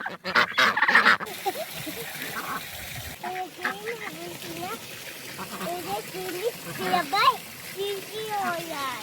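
Ducks and geese at a village pond give repeated short quacks and honks, moderately close, scattered across a steady outdoor background with people talking nearby.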